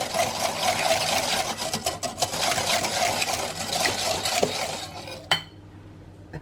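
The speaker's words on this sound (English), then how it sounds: "and whisk that in" Caster sugar whisked into cake batter in a bowl, a fast, continuous scraping and clinking of the whisk close up, ending abruptly with a clink before a quieter tail.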